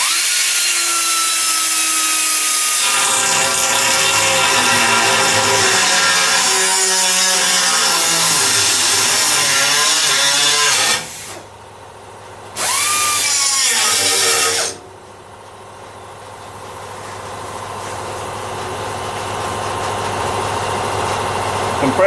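Air tool powered by a small, low-capacity compressor, used during rust repair on a 1965 Ford Falcon, revved in loud sustained bursts. Two short dropouts come near the end, and a steady lower hum is left behind.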